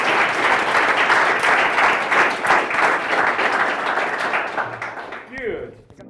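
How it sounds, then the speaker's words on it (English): Audience applause for a speaker at the close of a technical talk on Model Context Protocol with C#, steady dense clapping that carries on for about five seconds before thinning out and fading near the end. "big round of applause to our speaker from tonight"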